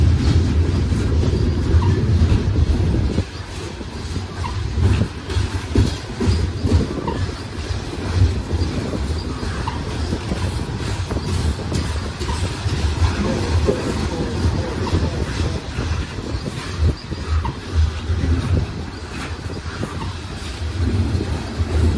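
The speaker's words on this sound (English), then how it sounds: "They would have hauled these, the coal trains." A coal freight train passes close on the Pittsburgh line, loud and continuous, with rumbling railcars and rhythmic clickety-clack of wheels over rail joints throughout.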